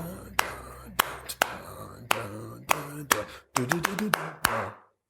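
Sharp hand claps beat out a syncopated rhythm, about a dozen crisp strikes that cluster tightly toward the end, close and distinct, with a voice talking between them.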